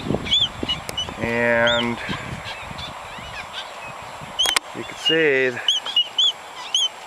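Seabird adults and chicks on Midway Island calling in loud nasal, honking bursts, two long harmonic cries and scattered shorter squeaks nearby, with someone talking briefly among them.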